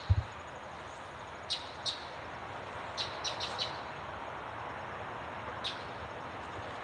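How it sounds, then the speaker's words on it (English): Several short, high bird chirps sound alone and a little distant over a steady outdoor hiss, scattered singly and in a small cluster. "And that one bird agrees with me."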